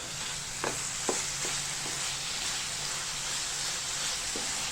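A jaggery filling for steamed ukadiche modak is stir-fried in a pan. A constant soft sizzle runs throughout, broken by a few light scrapes of the spatula early on.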